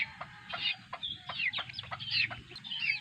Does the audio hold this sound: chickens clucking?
yes